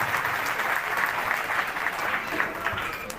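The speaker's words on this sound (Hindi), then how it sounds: "जोरदार तालियां बजनी चाहिए।" Loud, sustained audience applause at a speaking event, dense clapping from a large crowd continuing evenly throughout without any speech over it.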